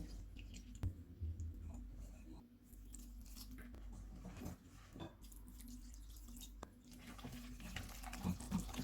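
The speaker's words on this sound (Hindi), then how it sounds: "थोड़ा थोड़ा पानी डाल के बैटर तैयार कर लेंगे।" Flour and water are stirred into a liquid batter for potato paratha with red chilli and turmeric, giving soft wet squishing and light clicking from a utensil in the bowl, faint and close, with a low background hum.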